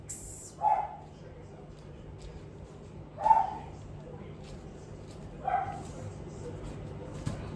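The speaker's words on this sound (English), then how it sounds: "There's Cody the dog" A dog gives three separate single barks a couple of seconds apart, moderately close, over a quiet room hum.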